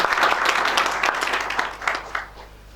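An audience at a presentation of business services in Ohrid gives a colleague a round of applause, dense and fairly loud at first, then thinning into scattered claps as it fades out.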